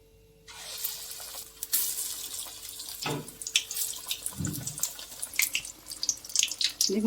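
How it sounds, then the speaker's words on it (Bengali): Beguni, batter-coated eggplant fritters, deep-frying in oil over low heat, giving a continuous close sizzle with bubbling bursts and crackles that grow busier toward the end. "আস্তে আস্তে অল্প আঁচে ভেজে নিতে হবে।"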